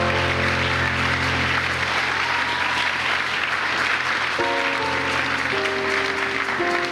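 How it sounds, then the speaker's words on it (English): A church congregation claps during a sermon, a thick, continuous wash of applause held at a steady loud level throughout, with sustained organ-like tones underneath. "Clap your hand for this Jesus."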